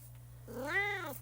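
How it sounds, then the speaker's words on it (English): A house cat gives one drawn-out meow, rising then falling, fairly close in a quiet room over a steady low electrical hum, with no talking. "My cats are making some appearances."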